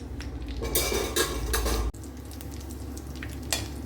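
Cashew nuts fry in hot ghee and coconut oil, a close, busy sizzle with loud metallic scraping and clinking of a spoon stirring in the pan, one sharp knock midway.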